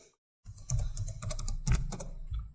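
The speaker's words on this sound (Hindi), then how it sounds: "डायमेंशन यहाँ पर टाइप कर लें" Quick burst of typing on a computer keyboard while drafting a floor plan in AutoCAD, close and crisp keystrokes in a steady patter after a moment of silence.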